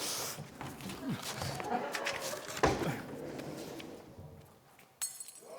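A glass-breaking sound effect gives a sharp clink and crash, followed later by a second brief hit. Both play over a noisy room with voices and general clatter.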